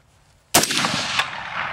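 A single loud, sharp gunshot from a 5.56x45mm rifle cracks after a moment of near silence, then rings out in a long decaying echo with a faint secondary thump.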